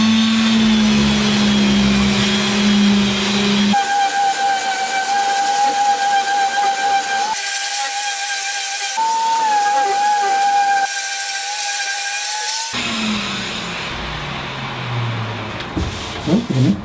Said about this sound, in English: I'm using a little small orbit sander.